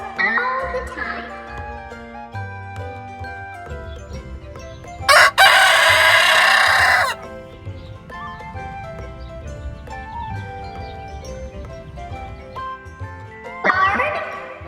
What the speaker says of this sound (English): Roosters crow all the time.